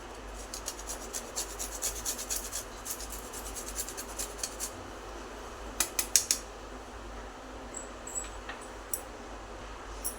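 Whole nutmeg rasped against a small kitchen grater while making red pumpkin gharge, a run of quick scraping strokes that pause and resume, close and fairly quiet, with no voices.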